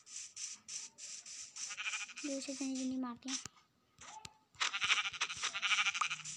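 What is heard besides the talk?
goat bleating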